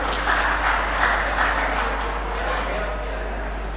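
A crowd claps for guests welcomed at an Ikatan Penilik Indonesia 18th-anniversary gathering in Central Java, producing a dense, even wash of applause over a low electrical hum that gradually softens toward the end.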